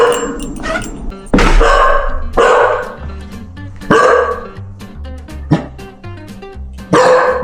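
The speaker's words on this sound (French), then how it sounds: "tu m'as accueilli en aboyant comme pas possible" A corgi barks loudly and repeatedly in a hectic, uneven series right up close as its owner comes home indoors, with a few yips and whimpers mixed in.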